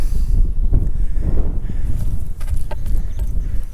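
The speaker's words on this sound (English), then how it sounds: "Very windy day though, I will say that." Steady, gusty wind roars and buffets the microphone at Blue Hole, Santa Rosa, New Mexico, a heavy low rumble throughout with no voices.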